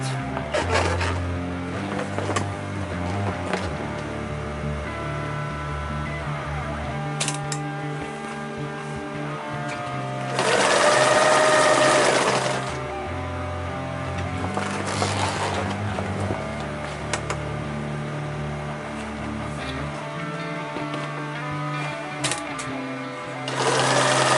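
A sewing machine stitches a compression strap onto a rollup backpack, running in bursts of steady mechanical whirring with short pauses, and one louder, rougher stretch midway.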